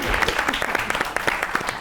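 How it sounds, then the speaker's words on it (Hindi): Brief, lively applause from a television talk show studio audience sending off a guest, quick uneven claps under a speaking voice. "बहुत सी तालियों में रुखसत कीजिए टोपी बाबा को"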